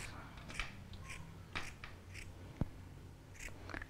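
Scissors cut through fabric in a series of short, soft snips at close range, spaced irregularly against a low background hum.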